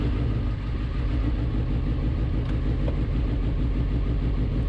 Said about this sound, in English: the sound of the engine is amazing